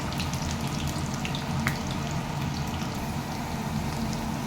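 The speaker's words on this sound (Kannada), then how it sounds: "ಆಲೂಗಡ್ಡೆ ಬೇಯ್ತಾ ಇದೆ" Cut, peeled potatoes cooking in a pan for a mixed vegetable sabji, giving off a steady, close sizzling hiss that holds at a constant level throughout, with a few faint ticks and pops over it.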